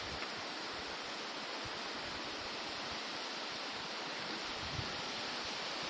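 Laza waterfall in Qusar roars with a constant broadband rush of falling water, loud and unbroken throughout, with no voices.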